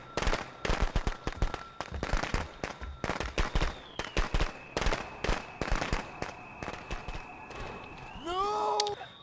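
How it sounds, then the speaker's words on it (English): Rapid strings of sharp firecracker pops in the video game Friday the 13th crackle irregularly for several seconds, loud and close, with a tonal whine underneath and a brief shout at the end. "Imported firecrackers."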